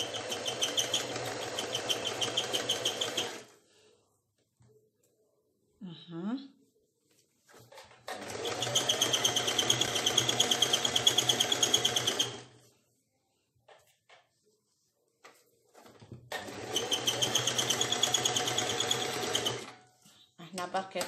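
A sewing machine zigzag-stitches a bed cover in three long, steady runs separated by quiet pauses, close and moderately loud, with faint handling noises between runs.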